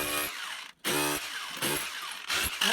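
A Bosch Bulldog Xtreme SDS-Plus rotary hammer chisels concrete, its loud, harsh hammering roar cut by a short pause and then running again in a few bursts.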